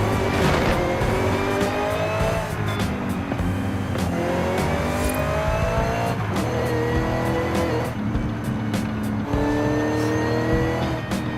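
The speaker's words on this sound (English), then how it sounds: "Hear the whine of that supercharger." Steady rising and falling supercharger whine from a car in the racing game Forza, layered over a loud revving engine and occasional tire squeal as the car accelerates and corners continuously.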